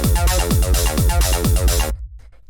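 A squelchy acid 303 synth line in a modern acid techno mix rides over a regular, deep rumbling kick, loud and driving, then cuts off abruptly, leaving a brief quiet tail.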